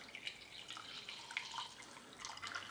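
Coffee brewed in a Chemex is poured into a cup, a faint, light trickle of liquid with small splashes and drips, heard close and alone.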